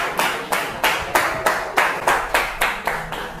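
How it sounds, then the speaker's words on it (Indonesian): A classroom group claps in unison after a presentation in a vocational school session, about a dozen steady, evenly spaced claps at a brisk rhythm, close and moderately loud with no talk. "berikan tepuk tangan"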